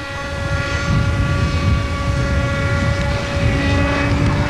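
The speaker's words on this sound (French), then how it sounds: "l'hélico lui rapporte maintenant la casquette" A radio-controlled model helicopter flies close by at a 1981 model aircraft meeting in Yverdon, its steady loud engine whine and rotor drone holding constant with sustained tonal harmonics throughout.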